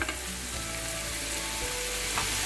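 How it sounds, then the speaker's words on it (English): Mutton hitting a hot pot for dum biryani, giving a loud, steady sizzle and frying hiss throughout with a few faint stirring clinks, no voices. "So we're now going to add the mutton into the pot."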